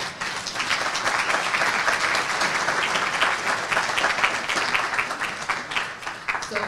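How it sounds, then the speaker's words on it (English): Steady applause from a breakfast audience at a Rotary youth volunteer event, many hands clapping densely and evenly for several seconds at moderate distance with no talk over it. "Applause, please."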